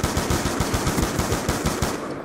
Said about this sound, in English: We're over here shooting.